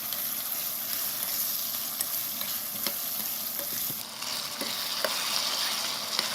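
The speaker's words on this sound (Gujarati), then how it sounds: "હવે એને થોડીક વાર કાંદા અને ટામેટાને ચડવા દઈશું" Onions and tomatoes sizzle steadily in a pan with asafoetida for masala dal dhokli, a constant fry hiss broken by soft stirring scrapes, with no talking.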